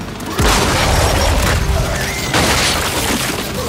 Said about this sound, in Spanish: ¡Lanzando granada de fragmentación!